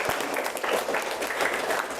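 A classroom of students claps together in a short, fairly quiet burst of applause, dense and steady for about two seconds.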